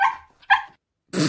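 A dog barking in a horse-show setting gives two short, sharp yips followed by a louder, harsher bark, close and clear with brief silences between.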